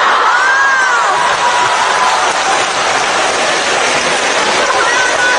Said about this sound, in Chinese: 刚才的掌声太热烈